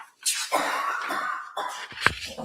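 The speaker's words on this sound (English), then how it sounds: "The person who's coughing needs to go." A few short coughs, one sharp and close, with a throat-clearing sound in a quiet courtroom during a trial.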